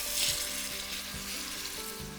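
Mutton keema fries in a pan for a Kolkata-style Mughlai paratha, a loud, close, continuous sizzle with a few stirring scrapes and no speech.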